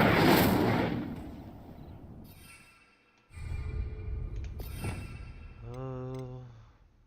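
An Incendio fire spell cast in the Hogwarts Legacy video game: a loud whooshing blast that fades, then a second rumbling burst of flame and a tonal magical hum, with no talking.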